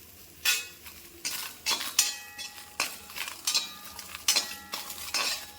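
Dried red chillies frying with shallots and ginger in a pan, with a steady soft sizzle under a series of about a dozen close spoon scrapes and clinks against the metal pan, no voices.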